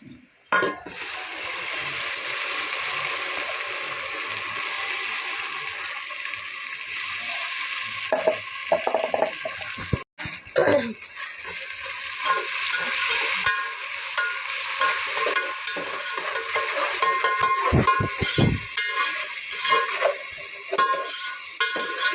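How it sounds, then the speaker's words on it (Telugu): Ginger garlic paste frying in a pan for a brinjal curry crackles with a loud, continuous sizzle, broken by scraping stirs and a short pause midway. "అలాగే అల్లం వెల్లుల్లి పేస్ట్ వేస్తున్నా"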